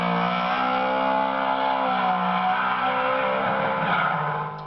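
A drift car on a qualifying lap in a King of Europe drift round in Spain, its engine wailing in a loud sustained high rev with tire squeal, steady and close with no talking.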